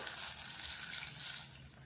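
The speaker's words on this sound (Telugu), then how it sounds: "మనము 1 గ్లాస్ వాటర్ వేసుకుందామండి." Water poured into a pan while making ragi halwa with jaggery gives a soft, continuous gushing splash that swells briefly midway and stays close and fairly quiet, with no voices.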